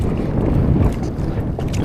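Strong wind at sea on a boat loaded with tuna on the Pacific, a steady roaring rush buffeting the microphone, with no talk.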